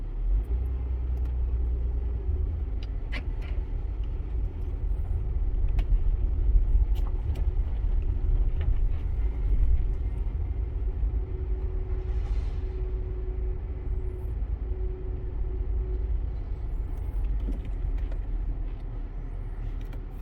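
A car with an intermittent ABS fault creeps along at about a mile an hour during an ABS test, giving a steady low engine and road rumble with faint clicks and no talking.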